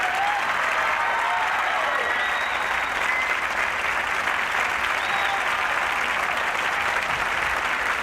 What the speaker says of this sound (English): Let's have a real cheer for them.